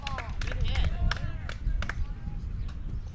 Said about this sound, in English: the Oilers faithful still cheering on